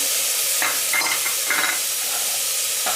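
Peas, potatoes and cauliflower sautéing in masala in a pan for masala bhat, a steady loud sizzling hiss with a few scraping stirs, close by.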